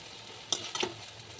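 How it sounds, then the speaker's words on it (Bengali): Soft sizzling of vegetable fritters frying in a little oil, with two brief scraping stirs. "একই রকমভাবে এপিটোপিট ভালো করে ভেজে নিচ্ছি"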